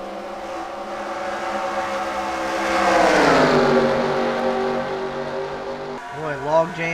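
Stock cars race hard at Atlanta in a video game, engines droning loudly and steadily with a rising, swelling pitch as the pack passes, under a commentator's voice.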